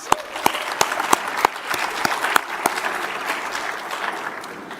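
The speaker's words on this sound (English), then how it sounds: "So an applaud to all of them" An audience at the Dubai Future Forum applauds, with a few loud individual claps early on that blend into a broader, steady round of clapping that slowly eases off.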